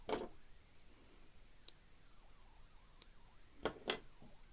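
Beading string being trimmed, with a couple of small, sharp snips spaced apart in an otherwise quiet setting with faint handling noise.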